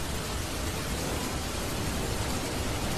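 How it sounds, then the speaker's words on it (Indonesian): Steady heavy rain hissing as a broad, constant wash during a wet-road ride on a modified Yamaha Vixion motorcycle, with no voices. "Jadi ini masih hujan ya, dari tadi siang sampai sore ini belum reda-reda"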